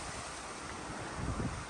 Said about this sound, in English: it has been crazy windy